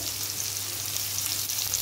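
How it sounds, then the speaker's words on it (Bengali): Onions frying in oil in a wok, with garlic already added, giving a steady, close, even sizzle with a faint low hum beneath and no voices. "পেঁয়াজটা একটু লাল লাল করে ভাজা হয়ে গেছে"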